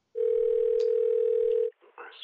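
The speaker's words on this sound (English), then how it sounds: "I'm going to go ahead and grab the landline and dial 911" A landline telephone dial tone hums as one loud, steady tone for about a second and a half before cutting off, followed by a few brief, quieter sounds as the handset is used to dial 911.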